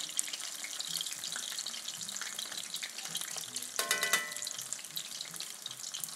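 Beer-battered onion rings fry in a skillet of hot oil, a steady close crackling sizzle throughout, with a brief clatter of pieces being turned partway through.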